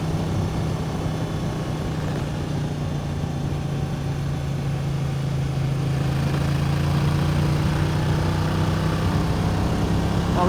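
A 2023 Honda Transalp XL750 motorcycle being ridden gives a steady engine drone with rushing wind noise, heard continuously and fairly loud as it cruises with no voices.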